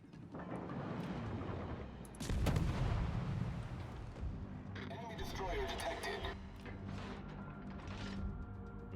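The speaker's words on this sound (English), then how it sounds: "So Omaha's firing armor piercing at me." Armor-piercing shell fire from the cruiser Omaha in a naval battle game: booming gunfire blasts and heavy impacts roll continuously over dense battle noise, with a loud burst near the middle and further volleys after.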